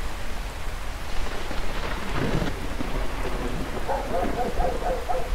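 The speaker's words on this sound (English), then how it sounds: "It was a storm that day." Steady rain falls with a low thunder rumble in a stormy scene from the video game Until Then. The wash of rain is constant and moderately loud, and the thunder rolls in midway, with no voices.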